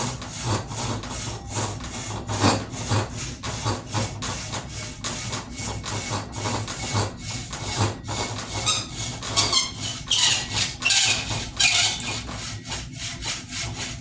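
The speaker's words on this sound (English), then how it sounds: "When it starts squealing like that, it's definitely getting in a bind, the saw, or it's getting into a very tight place" A hand saw rips through white oak in steady back-and-forth strokes, close and loud, with a high squeal breaking out as the blade binds in the tight kerf.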